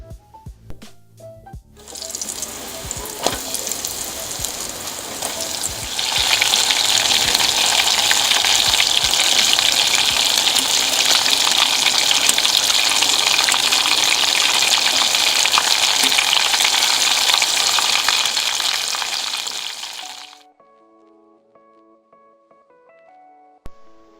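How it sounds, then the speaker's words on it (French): Breaded mornay cubes deep-frying in hot oil, a loud, dense crackling sizzle that surges as they go in, holds steady for about fifteen seconds, then fades out to near silence. "il ne reste plus qu'à les frire dans une huile bien chaude"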